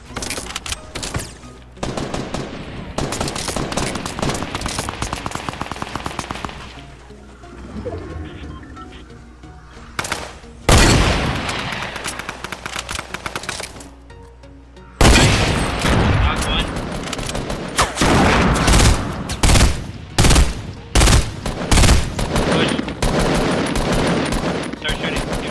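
Fortnite gunfire crackles in rapid bursts and single loud shots, with sustained automatic fire early and sharp repeated blasts later, while players talk over the game.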